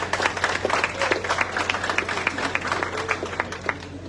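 Audience applause at a school centenary celebration in La Vallée, moderately loud and patchy, with distinct individual claps over a steady low hum.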